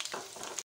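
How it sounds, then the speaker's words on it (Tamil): Mustard seeds and urad dal fry in hot oil with a close, bright crackling sizzle that breaks off briefly near the end before resuming. "கடுகு உளுத்தம்பருப்பு போட்டுடலாம்."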